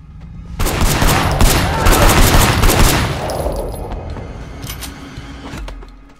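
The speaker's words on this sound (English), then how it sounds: "We're now switching seamlessly from a hand-to-hand combat mission to a shooting mission" Gunfire erupts during a shooting mission in the Hong Kong crime action game Sleeping Dogs, a loud close burst of rapid shots and crackling fusillade that peaks early, then fades into scattered pops and a lingering rumble.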